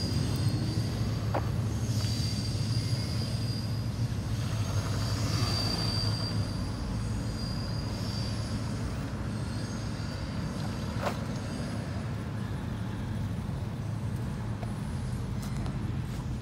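A freight train carrying rock to a quarry on a short line railroad rolls steadily past in downtown Mount Orab, eastbound, a continuous loud rumble with clanking wheels and a high metallic squeal.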